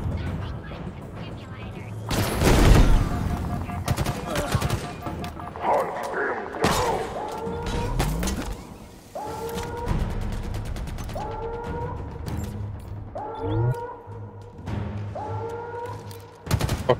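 Gunfire while shooting a grunt in the video game Halo Infinite, with bursts of rapid weapon fire, a heavy blast and repeated electronic shots in uneven rhythm under someone talking.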